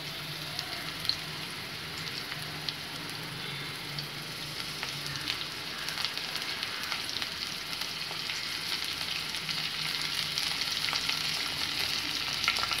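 Onions and torn curry leaves frying in oil in a pan, a steady dense sizzle that holds for the whole stretch with faint scrapes of stirring, close and without talk.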